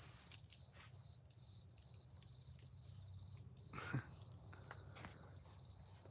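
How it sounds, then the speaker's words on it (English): Crickets chirping at night, steady evenly spaced pulsing trills repeating throughout, faint and distant against a low background hum, no voices. "Now the cricket's starting. You guys can hear the crickets?"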